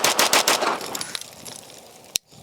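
A rapid string of close, loud shots from an Atlas Gunworks Apollo pistol, with a 2-pound crisp trigger, fired quickly in a fast burst. The shots then thin out into a few scattered reports, and a final sharp crack is followed by sudden silence.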